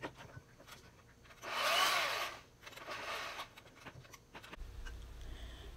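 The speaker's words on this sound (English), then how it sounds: "by the hand mixer." A hand mixer whips cream and sugar in a bowl, giving two separate bursts of whirring and beating: a louder one lasting about a second, then a shorter, softer one, with quieter handling sounds around them.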